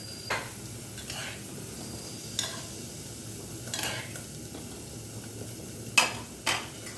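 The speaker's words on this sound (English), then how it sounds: "Stir well." Food being stirred in a cooking pot during a home Sunday lunch, several separate scraping stirs spaced a second or so apart over a soft frying sizzle, close and clear with no talking.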